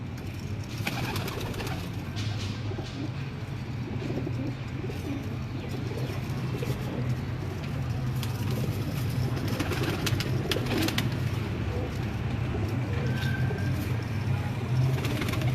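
Large breeder pigeons coo repeatedly in a low, soft, rhythmic murmur, with occasional chirps from other birds and a faint hum of background noise.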